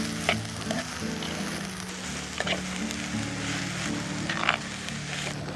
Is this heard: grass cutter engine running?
no